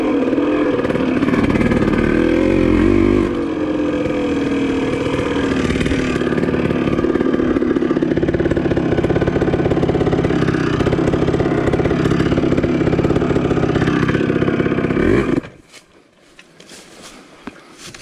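A Yamaha DT180 two-stroke trail motorcycle labors up a steep dirt hill, its engine buzzing loud and close at high revs with wavering pitch for about fifteen seconds, then cutting off abruptly into near quiet.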